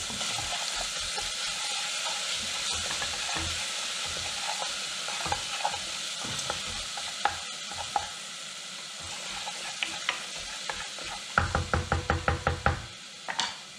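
Garlic seasoned with a pinch of pepper sizzles steadily in a hot pan, with a spoon scraping and stirring, and a run of quick, rhythmic taps against the pan near the end.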